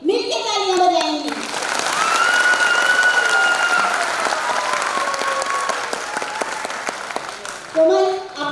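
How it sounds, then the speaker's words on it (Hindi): Two teams in an audience at a Corps Day celebration clap together in a loud, sustained burst of applause lasting several seconds. Cheering voices ride over it, and speech comes just before and after. "अब दोनों टीम मिलकर तालियां बजाएंगी।"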